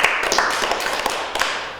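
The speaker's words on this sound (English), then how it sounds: "Should we give her a big round of applause?" An audience in a JavaScript lecture on closure and scope bursts into a dense round of applause, many hands clapping at once in a steady crackle for about two seconds.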